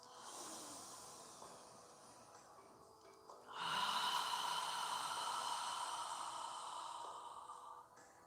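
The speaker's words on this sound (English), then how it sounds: "Inhaling through our nose and exhaling through our mouth. Try and take long, deep, full breaths." One person breathes deeply during a yoga session, drawing a long, soft inhale through the nose, then releasing a louder, sustained exhale through the mouth, close and unhurried.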